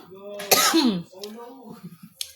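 A woman coughs and clears her throat in a short, close burst, followed by quieter murmuring speech.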